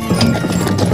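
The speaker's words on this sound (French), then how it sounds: "Allez Roméo, trotte, dis donc." Horses trot on the ground of a vineyard during the grape harvest, a quick, close clip-clop of hooves filling the second.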